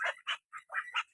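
Farmyard ducks at a village home in Assam let out four or five short, nasal quacks in quick succession, close by and clear against silence.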